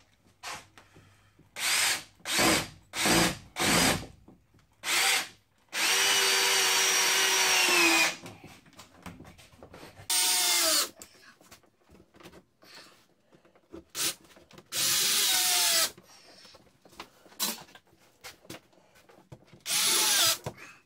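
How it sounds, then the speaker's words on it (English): A power drill whirs in several short bursts, then runs in longer sustained stretches with pauses between, loud and close with no talking. "there's the tool. It has now become a drill."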